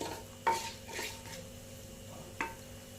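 Whole coriander seeds, bay leaves and dried red chillies frying in hot oil in a pan, a quiet steady sizzle broken by a few sharp clinks of a utensil against the pan, with no talk.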